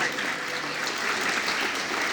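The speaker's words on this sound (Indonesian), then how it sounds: "Tepuk tangan nih buat kalian orang ini." An audience at a leadership seminar applauds in a steady, dense wash of clapping that holds at an even, fairly loud level with no voices on top.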